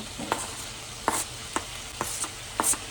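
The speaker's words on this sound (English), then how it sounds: "Now we're going to add our tomatoes and our onions. Just add it all together." Taco meat being stirred together with tomatoes and onions in a pan, a spoon scraping and knocking in several separate strokes over a faint steady sizzle.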